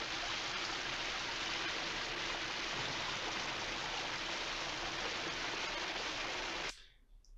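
Shower water runs hard from a showerhead in Hitchcock's Psycho, a dense, steady hiss of spray that cuts off abruptly near the end.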